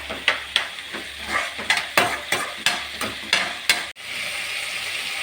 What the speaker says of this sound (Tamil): தக்காளியும் போட்டு நல்லா வதக்கி விடலாம்